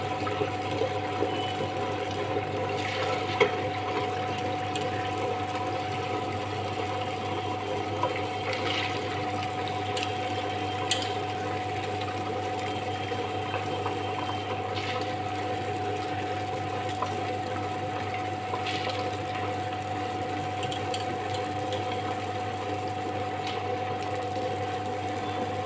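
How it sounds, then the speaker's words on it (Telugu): Wet grinder running, grinding soaked lentils with water into idli batter: a steady, even mechanical hum and whirr with faint sloshing, fairly quiet and continuous throughout. "గ్రైండర్ ఆన్ చేశాను."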